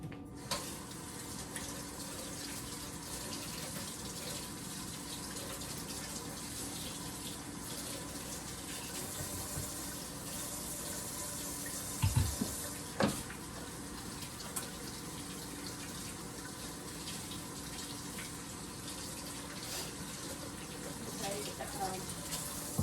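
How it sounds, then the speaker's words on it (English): Water runs steadily from a kitchen tap while hands are washed, a close continuous hiss and splash lasting throughout with a couple of brief louder splashes and knocks partway through. "Let me wash my hands."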